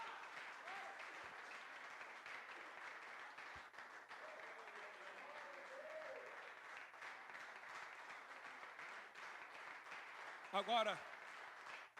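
Church congregation applauding during a Portuguese-language worship service, a steady broadband wash of clapping lasting throughout, with a preacher's voice and faint singing or speech mixed in underneath.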